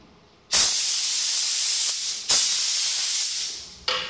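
A spray gun sprays chocolate into sweet moulds in three loud, close hissing bursts of air. Each starts abruptly and runs steadily for well over a second, with brief quiet gaps between them.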